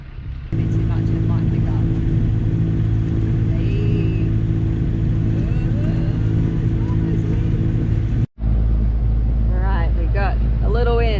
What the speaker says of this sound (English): Maybe you can turn off the motor